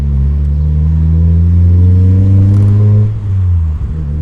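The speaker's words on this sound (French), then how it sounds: "je préfère rouler 1000 fois avec une ligne modifiée comme ça, qui est rauque" A Mazda MX-5 NA with a modified, raspy exhaust line revs loudly and close, a sustained throaty drone that climbs slightly before the throttle drops off near the end.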